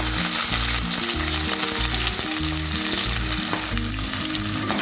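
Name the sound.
onions sautéing in hot oil with mustard seeds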